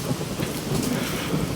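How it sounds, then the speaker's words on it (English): Steady, heavy rain pours in the evening with a low rumble of thunder rolling underneath, a dense, continuous wash of sound with no voices. "Thunder and lightning."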